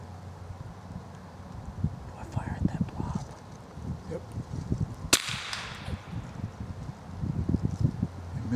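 A single sharp gunshot cracks once mid-clip during a squirrel hunt in woods after deer season, close and abrupt, with rustling, footsteps and wind around it and people talking nearby.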